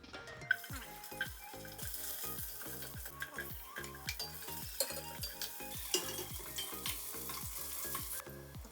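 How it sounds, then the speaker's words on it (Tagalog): Garlic, onion and ginger sautéing in a pan, with a soft background sizzle under regular clinking, scraping strokes of a metal utensil against the pan in a steady rhythm, close and clear. "Bawang sibuyas, luya. Gigisa-gisa lang natin yan."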